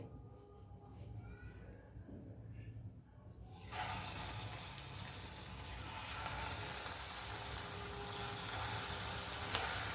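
Ridge gourd bhaji dropped into hot oil over a low gas flame. A quiet background hiss gives way to a loud, steady, bubbling sizzle that continues to the end.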